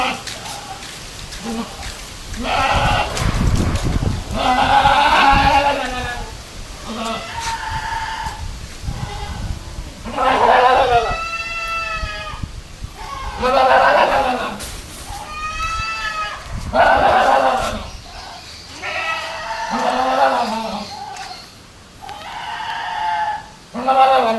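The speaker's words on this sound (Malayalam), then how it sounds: "ഒരു കരോളി കോട്ട ക്രോസ് ബ്രീഡ് ആട് കുഞ്ഞുങ്ങളെ പിടിച്ചതാണ്" Kota Karoli crossbreed goat kids bleating repeatedly, a string of wavering high cries close by in uneven bursts, with pattering noise in between and a person talking now and then.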